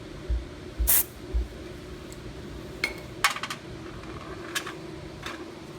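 Carburetor parts from a Honda HRB215 lawn mower get sprayed clean, a few short hissing bursts mixed with faint small metallic clinks over a quiet background.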